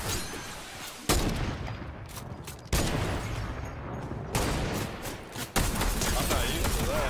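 Gunfire in a Fortnite No Build squads match comes in four loud, dense bursts, each cutting in sharply and rattling on for a second or more.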